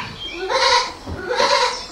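A goat bleats twice at a preschool holiday gathering, two wavering, nasal calls about a second apart, close and clear with no talking over them.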